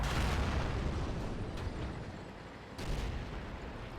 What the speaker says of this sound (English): a heavy tank driver tries to suicide at the end of a match and is put out of his misery by artillery